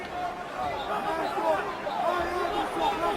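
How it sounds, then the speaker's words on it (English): Arena crowd at the O2 Arena roaring behind a home fighter, Michael Bisping, during a UFC bout, a steady dense wall of cheering and chatter that stays loud throughout. "The crowd getting behind their home fighter here at the O2 Arena"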